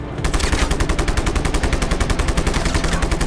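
Rapid automatic gunfire in the open-world game Just Cause 3 rattles in a fast, continuous burst of evenly spaced shots, loud and close, lasting the whole stretch without pause.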